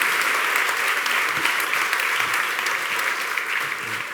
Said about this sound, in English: why don't you guys give it some claps and encourage them